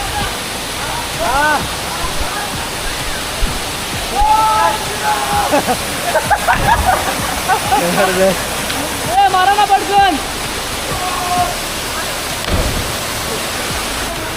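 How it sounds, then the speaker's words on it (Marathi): Waterfall at a tourist spot in Jawhar, a loud constant rushing roar of falling water close by, with people talking and birds chirping over it. "हे बघा इथून आहे ना पाणी खाली पडतं असं पाणी खाली पडून मग थोडा खालून जाते"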